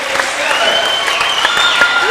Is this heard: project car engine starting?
no